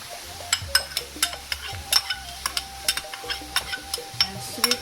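Sweet noodles stir-fried with soya bean sauce, a rapid series of sharp utensil clicks and scrapes against the pan over a low sizzle, close and fairly loud, no voices.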